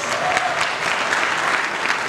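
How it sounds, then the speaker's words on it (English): Audience applause fills the hall at the grand finale of an HR club event at North South University, steady, dense clapping sustained throughout with faint crowd noise and no talk. "So let's have a very big round of applause"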